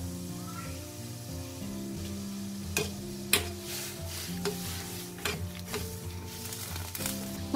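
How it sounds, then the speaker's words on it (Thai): Bua loy glutinous rice dough balls are stirred in a pot of boiling water, giving a few soft scraping knocks and clicks against the pot over steady background music. "เมื่อเราใส่ลงไปได้สักพักนึงให้เราคนก่อนทีนึงนะคะเพราะว่าตัวเม็ดแป้งของเราจะไปติดหม้อนะคะ"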